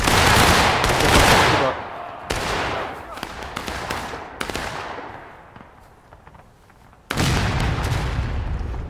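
Soldiers in the Civil War game War of Rights let off a musket volley, a long loud rolling crackle of many shots, then scattered popping farther off, and a second heavy volley bursts in near the end.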